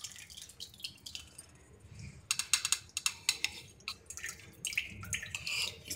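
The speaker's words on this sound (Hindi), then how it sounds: "उसमें हमने इसमें दही को छान लेना है।" Liquid whey from yogurt drips and trickles through a muslin cloth into a bowl in a home kitchen, coming as irregular, close wet splashes in bursts, with soft clinks of bowl handling between them.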